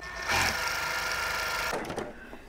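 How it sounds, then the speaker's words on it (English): Quilting sewing machine stitching a quarter inch seam on a sawtooth star block, a close, steady rapid whir running for about a second and a half before stopping, then faint handling sounds. "I'm going to sew a quarter inch seam."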